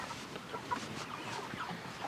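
Low clucking from a chicken on a farm, a few soft murmured calls in steady background noise, faint and somewhat distant, with no talking.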